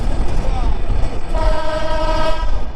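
A Jahanabad Express train on the Dhaka–Khulna route rumbles along loudly with a steady roar and rattle, and a horn-like tone sounds briefly partway through.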